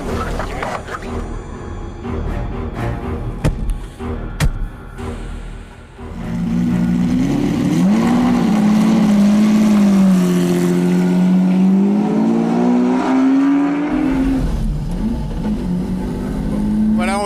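A V12 car pulls out of the pits at the Dijon-Prenois circuit, its engine droning steadily and rising in pitch as it accelerates, loud and close throughout, with someone talking over it.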